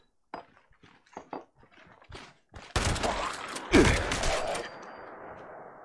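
Shotgun blasts in Fallout 76 come as a few loud, sharp booms with a trailing rumble and decaying echo, after scattered short impacts and clicks.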